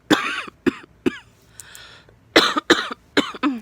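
A run of sharp coughs, close by, in quick bursts with a short pause and a faint rustle before a second cluster.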